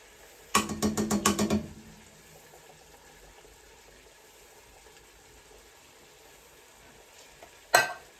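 Tinned peas tipped into a hot pan for cottage pie give a sudden loud sizzling burst with rapid crackling pulses that fades to a faint hiss, then a second short sharp sizzle near the end.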